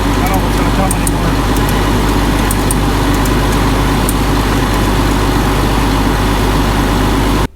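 A Challenger MT765 tractor, an older pre-emissions model, idles nearby with a loud, constant low engine drone and rumble, steady throughout before cutting off abruptly at the very end.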